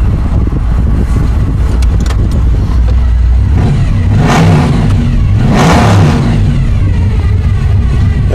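A Chevy 2500 truck with a 383 stroker engine does burnouts, loud close revving surging in two big bursts over a constant heavy rumble, with no talking.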